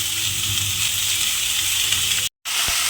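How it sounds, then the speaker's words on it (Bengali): Chopped red amaranth leaves hit hot oil in a pan and sizzle loudly and steadily, a bright continuous frying hiss with a short silent gap near the end. "সেই লাল শাকটা আমি এর মধ্যে দিয়ে দিলাম"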